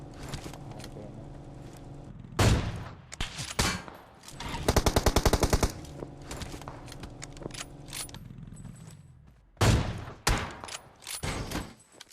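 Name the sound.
gunfire in the video game BGMI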